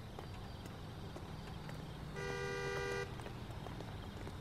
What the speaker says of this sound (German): Wer hupt denn da?